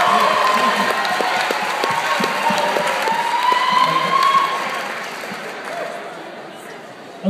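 Audience applause at a college choral contest, sustained clapping mixed with cheering and crowd chatter in a hall, tapering off toward the end with a final burst.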